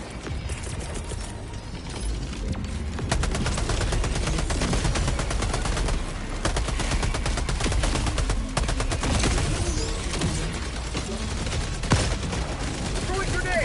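Sentry turret gunfire in Helldivers 2 against the Illuminate, a loud, continuous rattle of rapid automatic shots with mechanical clatter running throughout, with a voice speaking over it at times.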